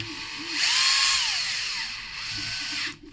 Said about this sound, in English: So just screw. Again with the screwdriver.